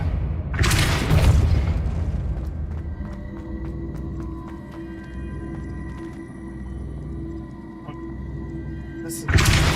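Depulso spell in Hogwarts Legacy, a heavy booming burst at the start and another at the end, with a quieter rumbling, ringing tail between them.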